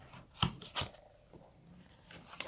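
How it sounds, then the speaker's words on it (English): A deck of tarot cards is cut by hand, giving a few sharp, close card snaps and riffles separated by quiet pauses. "I think we're just going to cut the deck"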